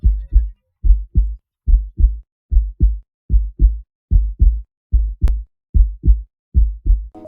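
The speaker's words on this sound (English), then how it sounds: "there will be a heartbeat sound playing" Fortnite's downed-player heartbeat effect: deep, muffled double thumps repeat at an even, steady pace, close and alone, with one brief faint click partway through.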